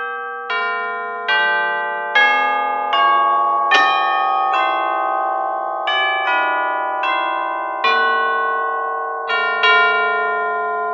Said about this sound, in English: And that's the chimes